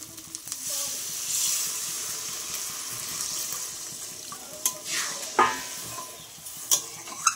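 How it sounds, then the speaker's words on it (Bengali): Water goes into a pan of Bengali egg curry (dim kosha), a steady splashing pour over soft sizzling, followed by a few sharp clinks and stirring knocks. "কষানোটা হয়ে গেছে, এবার আমি জল দিয়ে দেবো।"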